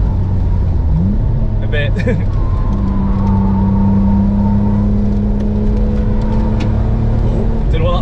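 Restored E46 BMW M3 lapping the Nürburgring, a constant loud engine and road roar heard from the cabin, with a sustained engine tone holding steady through the middle and a few short knocks; brief speech is heard.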